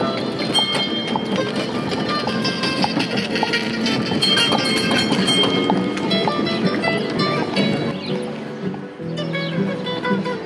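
Horse hooves clip-clop steadily as a horse and carriage rides through Athens from the Acropolis toward Plaka, loud and rhythmic amid rattling wheels and street noise.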